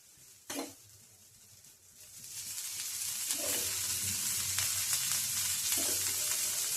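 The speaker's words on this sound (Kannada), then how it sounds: "ಎಣ್ಣೆ ಹಾಕಿ ಹುರಿಬೇಕು" Bitter gourd frying in oil on a medium flame, one early utensil clink followed by a hiss that builds into a steady, fairly quiet sizzle with light stirring scrapes.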